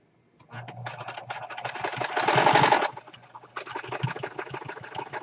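An old sewing machine whirs steadily nearby, its motor rising to a louder burst in the middle before settling back into a running hum.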